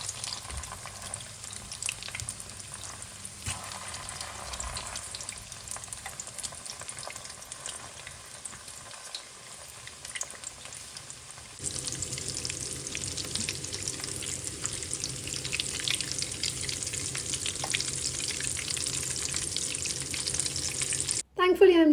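Cutlets sizzle steadily in a hot pan, a soft frying hiss that grows louder and denser partway through and holds at a constant crackle with no talking.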